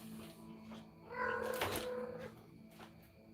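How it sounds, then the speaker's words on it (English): A house cat meows in the background, giving a drawn-out, wavering cry in the middle, with softer shorter calls before and after, heard faint and apart from any talk. "if you hear any meowing in the background"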